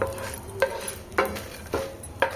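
Dry red chillies sizzle in hot oil for an onion chutney, with a soft continuous frying hiss and regular light scraping stirs of a spoon against the pan.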